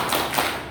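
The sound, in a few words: group applause, rhythmic clapping chant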